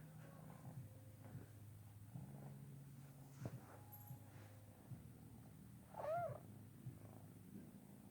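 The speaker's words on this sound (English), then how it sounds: "He purrs up a storm." Domestic cat purring close and very quiet, a low steady rumbling drone with a brief soft meow-like chirp partway through.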